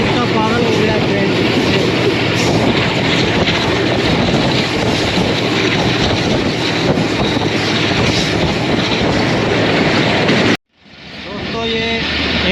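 Badar Express passenger train running on the rails between Lahore and Sangla Hill, a loud steady rumbling roar heard from on board that continues for many seconds before cutting off abruptly, with speech mixed in.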